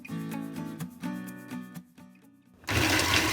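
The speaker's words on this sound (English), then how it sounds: "So now we're going to grind up the bitter melon" Chopped bitter melon churns in an electric grinder, a loud buzzing motor pulsing in rapid bursts that pause briefly before surging into a harsh, full whir.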